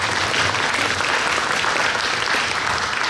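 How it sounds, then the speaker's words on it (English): Sustained audience applause for a retired US Navy Master Chief, a dense, steady wash of clapping filling the whole stretch without pause. "Give him applause."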